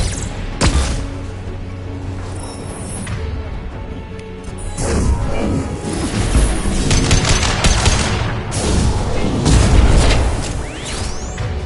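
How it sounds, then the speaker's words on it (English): Flashbang grenades burst in Mass Effect Legendary Edition amid a loud firefight, with booms, crashing blasts and steady gunfire layered close together throughout. "Watch out, flashbangs!"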